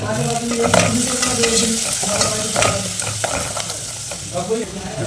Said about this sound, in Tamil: பாவக்காய் போட்டாச்சு. அப்படியே கிண்டிடணும். நல்லா வதங்கட்டும்.